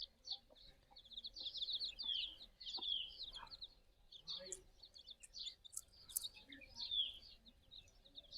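Desi chickens on a free-range farm cluck and chirp in overlapping bursts, close and fairly lively against a quiet background.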